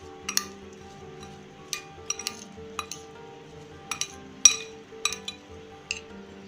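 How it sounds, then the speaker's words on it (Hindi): Mango pickle ingredients being mixed with mustard oil, a spoon clinking irregularly against a metal or glass bowl, close and crisp, with soft music underneath and no talking. "इन सभी चीज़ों को अच्छे से मिक्स कर देंगे"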